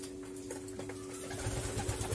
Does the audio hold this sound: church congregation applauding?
no